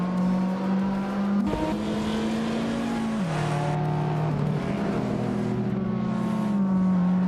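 A video-game race car, a 1990 Volkswagen Golf GTI, drones steadily at Dustbite Speedway, its engine note holding and shifting pitch as it accelerates, with other cars faintly audible around it.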